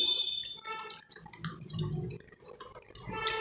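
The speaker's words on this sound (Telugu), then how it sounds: "దీనిలో కొద్దిగా మజ్జిగ యాడ్ చేసుకోవాలి నీళ్ళ మజ్జిగని" Watered-down buttermilk trickles and splashes into a bowl of water while dhokla batter is being prepared, a close, continuous pouring sound with uneven drips and gurgles and no talking.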